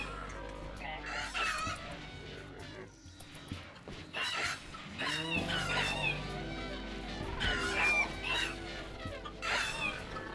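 Chickens clucking and squawking in the video game RimWorld, several short, repeated bird calls scattered over a steady background, with a person talking intermittently.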